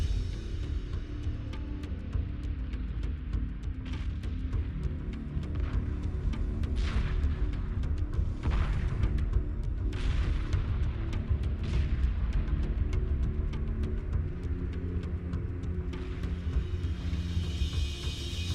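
Space battle in Homeworld 2, with a continuous low rumble of ship engines under repeated sharp weapon shots and bursts of blasts and explosions spread irregularly across the whole stretch.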